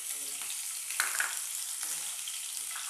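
Green chillies dropped into hot oil in a pan for a cauliflower-potato curry, a dense continuous sizzle with a brief louder burst as they go in, close and alone with no talk.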